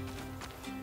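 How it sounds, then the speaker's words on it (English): Horse hooves clip-clop in the Blacktail video game, a brief run of soft muffled steps beneath a steady low game hum. "why did I hear a horse?"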